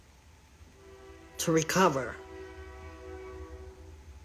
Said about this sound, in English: we got a train in the middle of my area